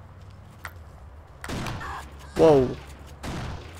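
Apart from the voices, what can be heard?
gunfire from the video game Kane and Lynch: Dead Men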